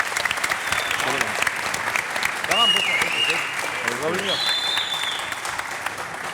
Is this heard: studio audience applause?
yes